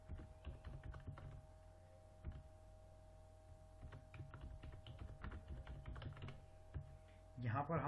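Typing on a computer keyboard while entering a customer's name, quiet irregular clicks in uneven bursts against a faint steady hum, with a louder rustle at the end.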